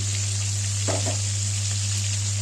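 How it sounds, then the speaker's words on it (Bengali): Marinated bhetki fish pieces fry in hot oil with a steady, close sizzle, accompanied by a persistent low hum and a couple of brief clinks partway through. "মাছগুলোকে আমি ভেজে নিচ্ছি।"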